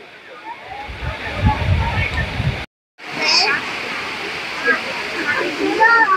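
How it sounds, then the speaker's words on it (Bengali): A waterfall on Tianmen Mountain in China roars as a broad, steady rush of water, with people talking over it and a brief cut to silence midway. "ঝর্ণাটা"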